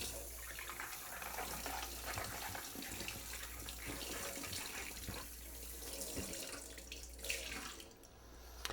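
Running tap water splashes steadily as a dive mask is rinsed, a continuous hissing, gurgling flow with small shifts as the mask moves under the stream, quiet and close, with no talking.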